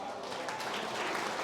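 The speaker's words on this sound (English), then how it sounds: "So please big round of applause to him." An audience gives a steady, dense round of applause from a crowd of many hands for a student on stage at a coding event.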